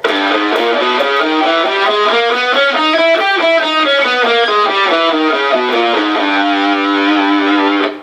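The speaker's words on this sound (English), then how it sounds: "The last mode from the seventh is sometimes referred to as the diminished scale" Electric guitar, overdriven and run through effects, plays the seventh mode of harmonic minor, the diminished-type scale, as a continuous run of distinct notes rising and falling, loud and alone, closing on a sustained final tone.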